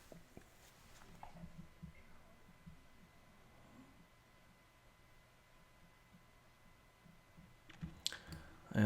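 A computer mouse clicks to unzip downloaded update files for a Uconnect 8.4 system. A few faint, sharp clicks come in a quiet room, with a louder cluster near the end.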